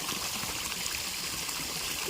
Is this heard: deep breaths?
no